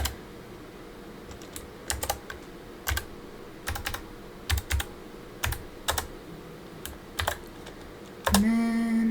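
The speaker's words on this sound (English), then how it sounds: "It's hard to type with one hand." Keyboard typing in irregular bursts of clicks with pauses between, fairly close, as someone types with one hand on a computer during a live digital art session; a short tonal sound near the end.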